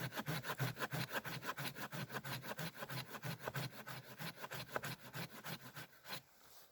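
A Silky Pocketboy folding saw cuts through resin-heavy fatwood with its teeth gummed up by pitch. About two dozen quick, rasping push-pull strokes run in a steady rhythm up close, then stop.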